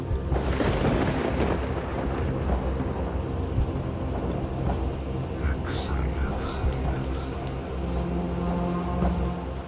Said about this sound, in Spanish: oímos el retumbar de una tormenta que se estaba desatando alrededor de la montaña de la